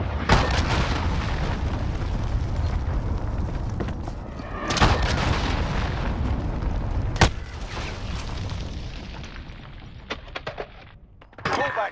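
Cruise missile explosions in the video game Call of Duty: Modern Warfare, a series of heavy booming blasts with sharp cracks over loud rumbling battle noise, ending in a few scattered hits.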